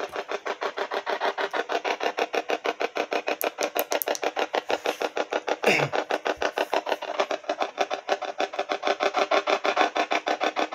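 A cell phone spirit box app produces a steady, rapid pulsing sweep of radio static and noise, choppy and continuous, with a brief whooshing sweep partway through and no voices.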